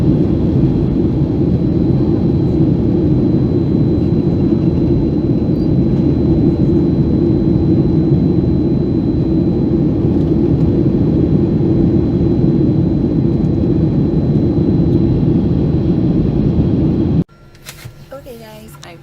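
Embraer E190 jet waiting to depart from Philadelphia, its cabin filled with a loud, steady low engine roar that holds for most of the stretch and then cuts off abruptly near the end.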